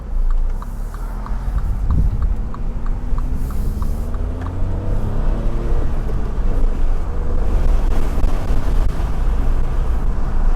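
A MINI Cooper with a manual gearbox drives and accelerates, its engine a loud, steady drone with rising tones as it gains speed, wind and road rumble filling the low end throughout.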